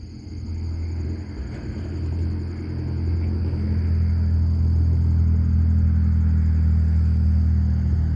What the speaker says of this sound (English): Maybe it's that car, that damn car that's making that noise.